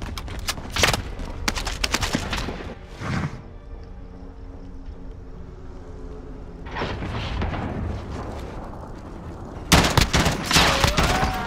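Gunfire in a shooter video game: bursts of shots open the clip, a lone shot near the middle, then a louder rapid volley at the end, with quieter ambient game sound between.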